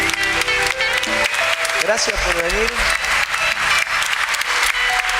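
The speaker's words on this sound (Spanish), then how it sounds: "Un aplauso fuerte para ellos" Church audience applauding musicians after their song, steady clapping from a gathered crowd while someone speaks briefly over it.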